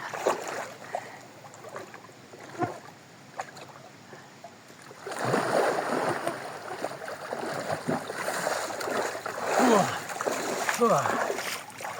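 People swimming and splashing in a river on a summer stop along Route 66, with irregular watery splashes and churning growing louder in the second half, close by, mixed with voices.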